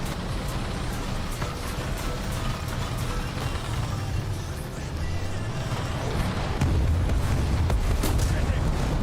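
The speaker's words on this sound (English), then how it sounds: "Artillery barrage in your sector." Continuous artillery barrage in War Thunder, dense overlapping booms and rumbling explosions with engine drone, steady and loud throughout, with voices in the background.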